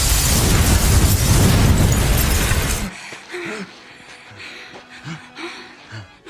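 A loud, sustained explosion roars inside a building for nearly three seconds, a dense crashing blast that cuts off abruptly. Quieter debris clatter and scattered sounds follow.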